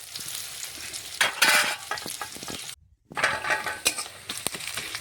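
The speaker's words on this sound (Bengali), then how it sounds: "এখন বেশ কিছুক্ষণ সময় নিয়ে পেঁয়াজটা একটু নাড়াচাড়া করে লাল লাল আমি ভেজে নেব।" Onions stirred and fried in white oil for a light chicken curry, a close crackling sizzle with spatula scrapes and clatters, rising in bursts, cutting out briefly, then resuming.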